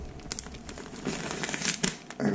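A plastic bag crinkles and rustles close by in short irregular bursts as Japanese cedar seeds are wrapped, fairly quiet, with no talking.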